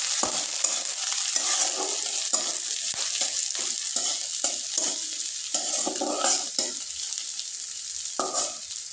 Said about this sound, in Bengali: খুব ভালোভাবে নেড়ে চেড়ে নিব